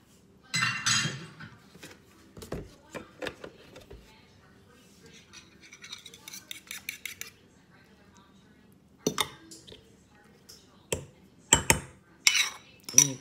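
Cornbread batter with beaten eggs is mixed in a bowl, with scattered clinks and scrapes of utensil against dish in short bursts separated by quiet gaps, close-up.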